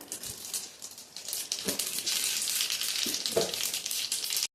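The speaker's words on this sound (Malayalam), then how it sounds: "എണ്ണ ചൂടായി വരുമ്പോൾ നമുക്ക് കുറച്ച് കടുക് ഇട്ട് കൊടുക്കാം" Mustard seeds frying in hot oil for a dal curry, a steady bright crackling sizzle with scattered pops that builds and holds loud through the clip, with no talk.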